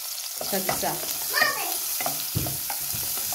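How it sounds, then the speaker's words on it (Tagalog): Onion and garlic sizzle in hot oil in a pan, a steady crackling fry with brief stirring scrapes, close and fairly quiet, alone. "Igisa na natin ang onion. Sunod ko na din ang garlic guys para sama sila mag-sagsa."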